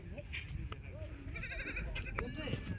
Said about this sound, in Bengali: দেখেন ছাগল